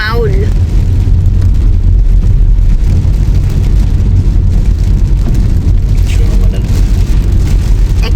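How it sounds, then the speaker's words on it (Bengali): Heavy rain pours down on a small village in Korea in a loud, constant hiss, with a low rumble underneath and a few faint voices and squeaks in the background. "আরো বৃষ্টি পড়তেছে তো"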